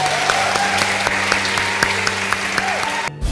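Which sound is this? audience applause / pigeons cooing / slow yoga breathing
audience applause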